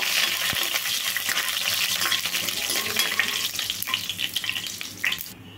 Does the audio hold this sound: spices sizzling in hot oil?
yes